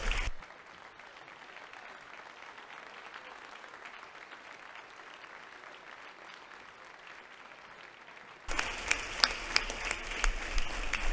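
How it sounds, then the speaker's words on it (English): Legislators in a state House chamber applaud, a broad, even spread of clapping from many people at moderate distance, ending in a sharp cut to a brighter, louder room with scattered claps and noise. "Let's give them another round of applause"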